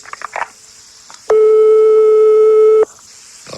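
A telephone ring tone on a call to the United States sounds as one loud, steady electronic tone of about a second and a half, with faint room noise before and after.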